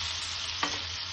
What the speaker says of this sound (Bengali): দিয়ে সবগুলোকে একটু ভালোভাবে ফ্রাই করে নেব যতক্ষণ টমেটোটা একটু নরম না হয়ে আসছে।